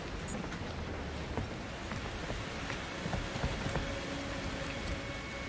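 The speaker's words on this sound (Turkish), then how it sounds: "Dışarıda kan yağıyor." Steady rain falling in the horror game Outlast II, where blood pours from the sky, a dense continuous patter and hiss with scattered brief ticks and a faint tonal whine, no voices.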